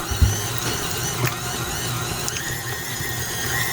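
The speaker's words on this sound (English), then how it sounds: "On my KitchenAid, I'm stopping it at speed number 4." KitchenAid stand mixer running at a steady medium speed while mixing strawberry cheesecake donut batter, a constant moderate motor hum and whir with faint rattles, close up, no talk.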